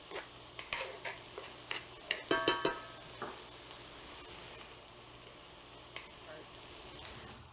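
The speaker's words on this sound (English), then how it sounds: "Now you want to saute your onions until they become nice and translucent." Onions sauté in a pan for a Three Sisters salad, a soft sizzle under a quick run of spoon scrapes and taps against the pan, with a voice faintly in the background.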